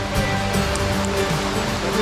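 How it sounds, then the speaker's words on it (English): A river rushes past a riverside lunch spot in the rain, a steady, loud, broadband flow of water that continues without pause, close by. "We're by the river here."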